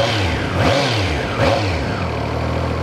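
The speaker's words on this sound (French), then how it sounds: "Vous entendez le son caractéristique du 3 cylindres avec ce petit sifflement qui n'est pas trop dérangeant" Triumph Trident 660 three-cylinder motorcycle engine revving close by, two sharp throttle blips rising and falling before settling back to a steady idle, loud and alone with no voices.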